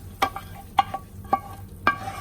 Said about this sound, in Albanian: salsën e përgatitur të domateve do ta shtojmë në tenxhere